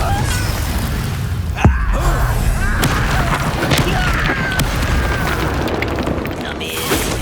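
A Confringo spell explodes in the Hogwarts Legacy video game, a sharp booming blast over a dense, continuous layer of combat noise and crackling effects, loud and close, with voices talking in the battle.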